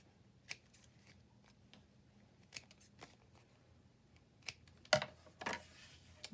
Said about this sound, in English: And do a couple snips.